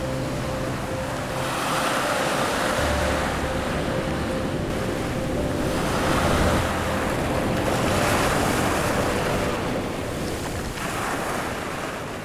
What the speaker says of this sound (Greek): Ένεκα των κυμάτων και των ανέμων που υπάρχουν στην περιοχή.